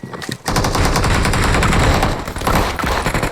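Rapid automatic gunfire in PUBG Mobile, loud and close, a sustained burst of shots that starts abruptly and keeps rattling with brief dips near the end.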